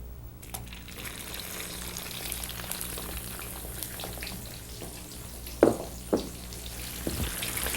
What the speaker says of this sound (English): What we'll do now is deep fry our cauliflowers in a similar fashion.